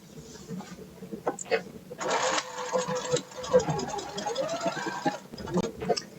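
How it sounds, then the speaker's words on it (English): A sewing machine stitching a seam on a wrap dress runs in uneven bursts of mechanical whirring and rattling, close by, mixed with background voices and music. "let's sew this seam"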